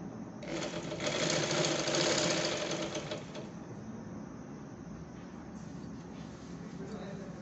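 Sewing machine stitching a six-panel petticoat, a fast steady whir of the needle close by for about three seconds, then easing to a quieter run.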